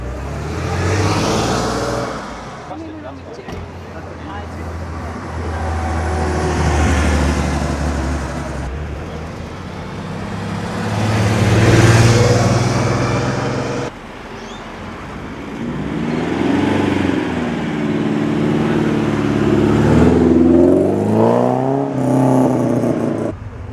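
A Porsche without power steering, at a Boxster and Cayman morning meet, struggles out of a parking spot and then drives off. The engine revs and fades over about twenty seconds, close at first and then receding, with roadway noise in the background.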